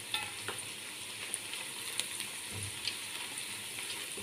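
Onions softening in a pot for kabsa, a quiet, steady sizzle with small scattered pops and crackles, faint and continuous with no talking.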